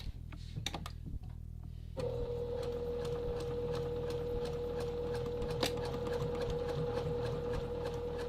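A sewing machine stitching a seam of a classic men's vest at a very short stitch length, about 1.2 millimeters, starts after a few clicks and then runs as a steady close whirring hum with fast rhythmic ticking.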